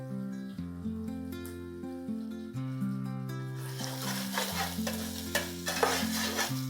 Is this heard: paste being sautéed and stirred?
yes